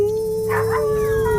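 A dog howls in a long, steady, wavering tone at night, close and loud, with another yelp-like call briefly rising over it.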